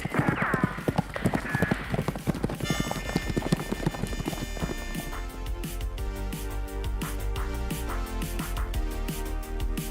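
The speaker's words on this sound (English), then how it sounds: "So come on, your horse is ready." A horse in a Wild West video game gallops with steady, rapid clip-clop hoofbeats that shift into a denser running rhythm under a game soundtrack, with no talk.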